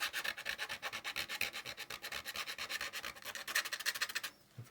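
Emery cloth rubs back and forth over a 3D-printed part in fast, even scratchy strokes close up, stopping just before the end, with no voices.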